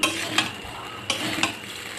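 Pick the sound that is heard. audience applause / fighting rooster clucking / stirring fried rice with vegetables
stirring fried rice with vegetables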